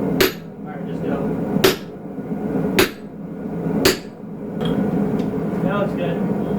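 Hammer blows split a hot Damascus steel bar at its midpoint by hand, four sharp, ringing strikes spaced about a second apart, loud and close over a steady background hum.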